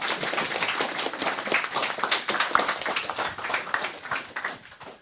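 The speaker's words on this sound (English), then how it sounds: "Round of applause there." A conference audience bursts into applause, a dense wash of many hands clapping that holds steady for a few seconds and then thins out and fades toward the end.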